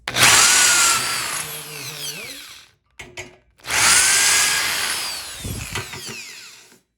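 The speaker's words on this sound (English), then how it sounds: "drill out our center hole with a drill bit that's big enough for our screw" A power drill whirs loudly through a center hole for a machine screw in a camper frame in two bursts, the motor revving and winding down between them, close by with no talking.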